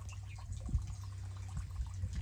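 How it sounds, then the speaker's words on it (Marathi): A faint, steady trickle of water falling from a water filter into its container, soft and continuous with a low background rumble. "ते फिल्टरचं पाणी ते पडत"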